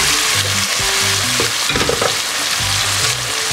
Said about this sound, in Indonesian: Kita masukkanlah bahan tumis ni.